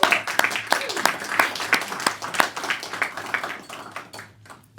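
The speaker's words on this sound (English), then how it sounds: "Round of applause." Audience at a Parkinson's foundation year-end event claps for board and advisory members, a lively stretch of distinct, close hand claps that gradually thins out toward the end.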